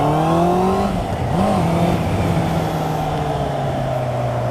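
A 2019 Honda CB650R four-cylinder motorcycle on the move, its engine note rising under acceleration, dipping briefly on a shift, then holding a steady drone, loud and close.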